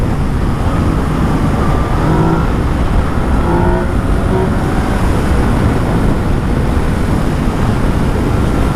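A 2019 Yamaha XSR900 motorcycle engine pulls hard while riding, a loud sustained roar mixed with heavy wind rush across the whole stretch.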